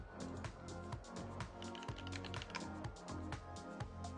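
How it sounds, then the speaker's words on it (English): Typing on a Monstargear XO87 V3 mechanical keyboard fitted with JWK Lavender switches, a quick, even patter of close keystrokes with a few heavier thocks, soft and nearby with no voices. "Let's do a typing test."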